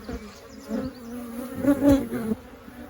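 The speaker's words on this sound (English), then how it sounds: "There are so many bees in my face I can't see." Honey bees swarm and buzz densely around an open single brood chamber hive, a close continuous drone crowding the ear while a person talks over it.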